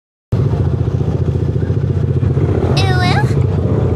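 A motorcycle engine idles steadily and loudly up close, a continuous low rumble starting abruptly and holding throughout, with a brief high rising whine near the end.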